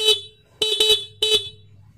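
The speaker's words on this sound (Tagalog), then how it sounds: "So ititest natin yung stock na busina niya" A stock motorcycle horn honks three times, short sharp beeps with a buzzy, bright tone, close by, with a low engine idle underneath.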